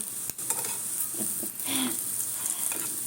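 Lentil fritters (bora) deep frying in oil make a continuous crackling sizzle, broken by brief scrapes and clinks of a spatula lifting them out.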